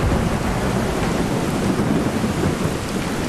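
A thunderstorm rages in the video game Skyrim VR: heavy rain hisses steadily while low, rolling thunder rumbles beneath it, loud and continuous for the whole stretch.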